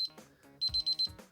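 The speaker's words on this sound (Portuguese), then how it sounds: "ele vai soar o alarme como um alarme de um relógio comum" Alarm from an INS CD-3000 digital timer clock: a short burst of four rapid, bright electronic beeps, close and clear, set among quiet background sounds.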